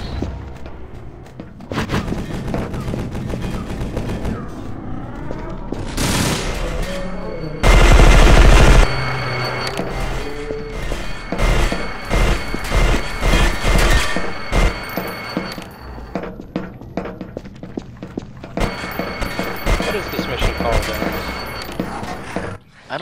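Rapid sustained minigun fire in the cyberpunk shooter E.Y.E. Divine Cybermancy, a loud dense stream of shots with mechanical whirring and a heavy boom near the middle, running almost the whole time with occasional talk underneath.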